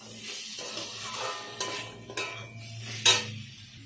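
Mushroom curry stirred and sautéed in a pan with spices, producing scraping, clinking utensil strokes against the pan and a soft sizzle, with a few sharper knocks near the end.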